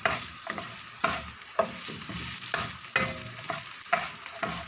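Carrots sizzle in a hot pan while being stirred for pancit Cabagan, with a spatula scraping in regular strokes roughly once a second over a constant frying hiss, heard up close with no voices.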